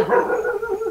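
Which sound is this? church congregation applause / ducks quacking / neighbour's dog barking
neighbour's dog barking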